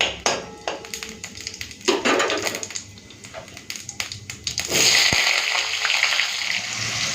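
Potatoes hit hot mustard oil in a kadai already sizzling with bay leaf and whole cumin, a sharp burst of loud frying that settles into a steady close crackle after clattering and tapping.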